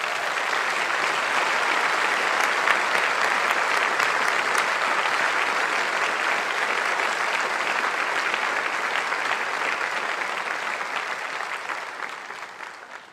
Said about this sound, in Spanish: Démosle un aplauso a Tom y a su esposa, Angela.